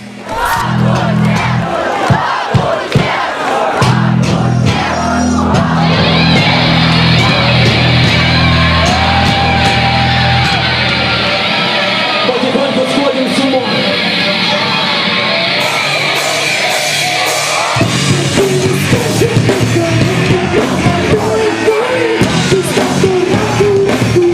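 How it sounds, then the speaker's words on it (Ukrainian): Concert crowd at a youth rock show in Dniprodzerzhynsk roaring, yelling and cheering for a band, with loud sustained whoops and shouts over music playing throughout, dense and close. "Їх зустрічали особливо бурхливими оплесками та галасом."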